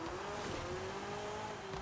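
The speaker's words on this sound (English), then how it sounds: "Oh, that engine." A Porsche 911 GT3 R race car in Forza Horizon 5 with a steady high engine whine held at constant pitch, loud and continuous, with faint tire noise underneath.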